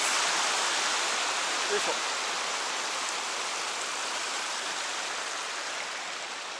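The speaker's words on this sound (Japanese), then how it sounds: "こちらはこういう感じで飛び石を渡って小川を渡るようです" A shallow but fairly swift stream in the Fox Glacier valley of New Zealand, crossed on stepping stones, rushes in a close, steady wash of water noise, with a person's brief grunt of effort partway through.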